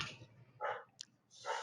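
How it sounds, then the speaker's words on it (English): A household dog barks twice in the background during an online committee meeting, with short sharp yelps spaced about a second apart against a quiet room. "Sorry if you hear my dog barking in the background."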